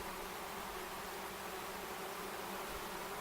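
A honeybee swarm hums around a swarm-catch box baited with swarm lure, a dense, steady buzz with no talk.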